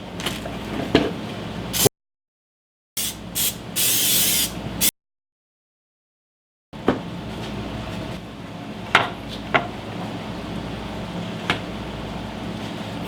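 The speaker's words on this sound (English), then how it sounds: "what I'm going to do is spray this all around." Spray bursts applied onto wood pieces being joined in a woodworking shop, heard as a couple of short hissing puffs and one longer spray between silent gaps, close and fairly loud, with light handling clicks around them.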